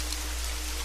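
Steady rain pours down in a constant, even hiss with a low rumbling undertone, no other sounds present.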